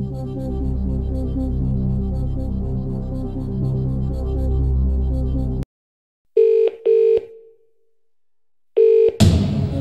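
Game music from the Who Wants to Be a Millionaire DVD game stops abruptly, and after a short silence a phone rings in short electronic bursts for the Phone a Friend lifeline, then a final ring and a swell of sound.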